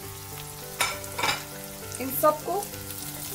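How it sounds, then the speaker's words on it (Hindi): Capsicum and onion sizzle softly in a pan as they are sautéed for a Chinese-style veg chow mein, with a few scraping stirs of a spatula breaking through the steady frying hiss; a brief spoken phrase is heard. "थोड़ा बस थोड़ी देर सॉटे करेंगे"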